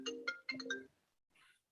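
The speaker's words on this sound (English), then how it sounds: "My phone started ringing" A mobile phone ringtone plays a short melodic chime of several bright tones, quiet and close, followed by a faint higher tinkle before it stops.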